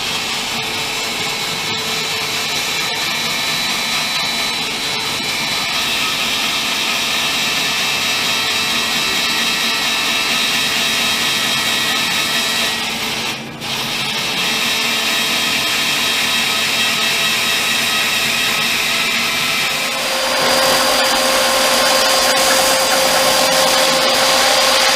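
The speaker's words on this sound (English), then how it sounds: "so that's had a bit of a sand down at the shed" Power sander working over a wooden front bulkhead for a cyclekart inside a small shed, a loud steady broadband whir running without pause for the full length, dipping briefly once and shifting pitch near the end.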